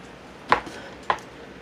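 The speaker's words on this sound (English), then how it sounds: "I put the jars in here." Two glass jars are set down one after another into a metal cooking pot for sterilizing, each giving a sharp clink about half a second apart, with quiet room sound between.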